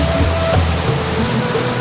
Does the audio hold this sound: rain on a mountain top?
yes